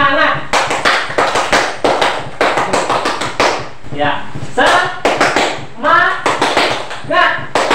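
A school class does a tepuk semangat clapping chant, with sharp, loud group claps in a quick rhythmic pattern broken by short gaps and chanted voices between the bursts.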